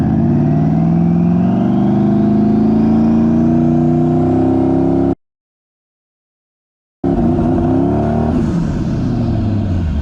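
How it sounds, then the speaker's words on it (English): A four-wheel-drive truck makes a full-load transmission-brake launch, its engine roaring loud and close with rising revs, cut by a brief silent gap, then resuming the strained acceleration. "I was gonna do a full load trans brake launch in 4-wheel drive"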